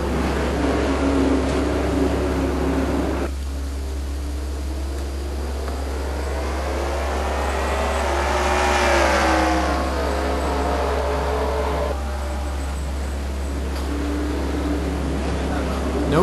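Race cars in a NASCAR video game race, their engines revving and roaring in a steady stream that swells to a loud sweeping pass in the middle before settling back, with a commentator's voice layered over parts of it.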